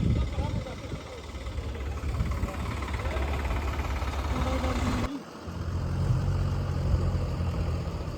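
Swaraj 855 and Mahindra 585 tractors running their engines hard side by side, a loud, steady, low diesel rumble with a brief dip partway through, while people talk and shout nearby.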